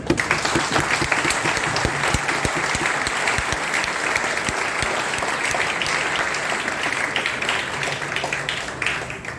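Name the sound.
applause in honour of teachers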